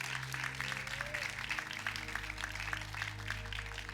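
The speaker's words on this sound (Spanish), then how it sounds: "denle un aplauso al Rey." A church congregation applauds, a diffuse patter of clapping spread through the room, moderately faint over a low steady hum and some background voices.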